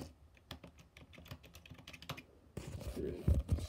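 Quiet, irregular keystrokes tapped close by while a Wi-Fi password is entered to connect a GoPro Hero 3, followed by a louder rustle of handling.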